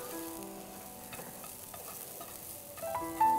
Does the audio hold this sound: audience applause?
no